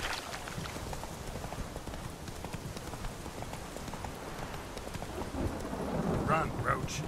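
Horse hooves galloping in The Witcher 3, a steady rapid clip-clop over ambient rain-like game noise, with a voice briefly speaking near the end.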